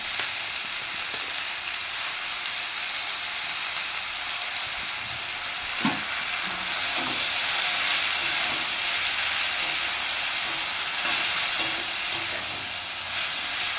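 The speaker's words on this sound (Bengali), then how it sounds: "এখন শাকটা দিয়ে দেবো তো শাক কড়াইতে দেবো নাড়বো" Leafy greens stir-fry in a hot wok with a continuous bright hiss and sizzle, with occasional stirring clunks and a brief louder rustle as the leaves are turned.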